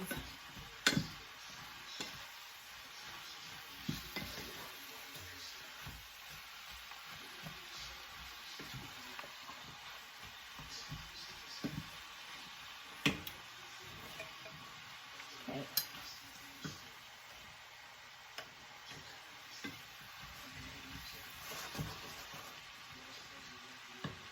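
Fried cabbage cooking with pork chops in a pan on a medium stovetop, a faint steady sizzle with occasional sharp utensil taps and scrapes as it is stirred, quiet and close.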